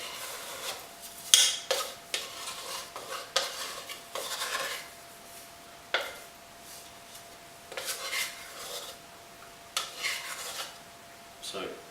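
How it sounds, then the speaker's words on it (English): A wet scraper working sticky seeded rye sourdough dough in a bowl, a series of close scraping and rubbing strokes in irregular bursts with short pauses, no talk. "So I'm going to turn it up with a wet scraper."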